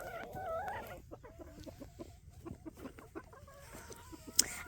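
Pekin bantam hens of mixed colours cluck in a henhouse, a series of short, close clucks and murmuring calls with a brief sharper squawk near the end.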